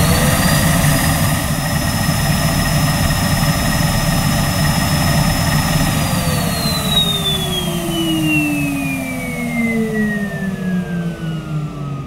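A blue Numatic Henry 160 vacuum cleaner with a 620 watt motor runs loudly and close with a suction gauge fitted on its hose. Its steady whining roar drops gradually in pitch during the second half.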